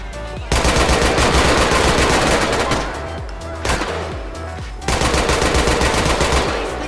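Sustained automatic M4 rifle fire in GTA 4, loud bursts in dense rapid volleys with a short lull in the middle before firing resumes.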